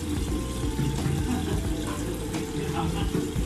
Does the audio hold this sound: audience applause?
no